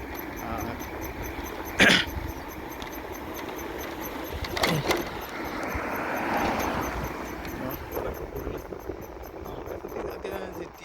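A dog barks twice, a few seconds apart, over a steady background hum of engines.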